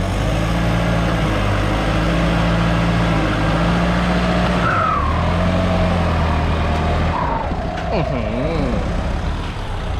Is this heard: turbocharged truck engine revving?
yes